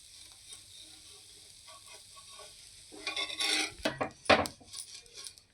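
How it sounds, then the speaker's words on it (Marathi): A rava paper dosa roasts on a pan over slow gas, quiet at first, then scraping and rasping bursts as a spatula loosens its edges, close and fairly soft. "गॅस अगदी स्लो ठेवायचा आणि मगच भाजून घ्यायचा डोसा"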